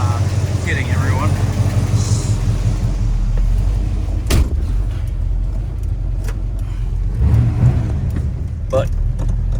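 A 1962 Ford Falcon hot rod with a 302 V8 and aluminum heads cruising on a highway, heard from inside as a loud steady low engine drone with road rumble, briefly swelling, while people talk over it.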